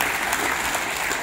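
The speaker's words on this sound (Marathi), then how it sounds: "एकदा जोरदार टाळ्या वाजवा" Audience applause breaks out, a dense burst of steady, fairly loud clapping from a crowd that fills the whole short moment with no voices over it.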